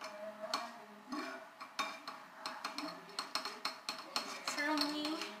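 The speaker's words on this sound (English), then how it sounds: "So we're gonna mix it." Salted ingredients being mixed in a bowl, with a utensil scraping and clinking against the dish in a steady rhythm of repeated knocks, close and clear, with no talking.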